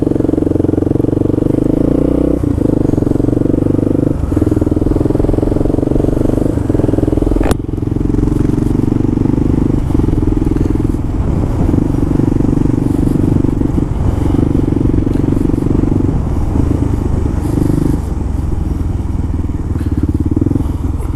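A motorcycle ridden through New York City traffic near the 59th Street Bridge, its engine droning loud and close throughout with wind buffeting and occasional thumps and clatter from the road.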